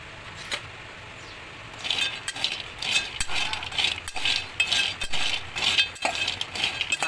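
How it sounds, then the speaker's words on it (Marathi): Dried lentil dumplings (sandge) being dry-roasted in a hot kadhai, close rattling and clinking as the hard pieces tumble and scrape against the pan in irregular bursts. "कढई तापलेली आहे, सांडगे आपण भाजून घेऊया।"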